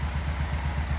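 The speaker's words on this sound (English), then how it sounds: "it's idling on that carburetor" A 1987 Yamaha engine idles on its carburetor, a steady low throbbing pulse heard up close and alone for a brief moment.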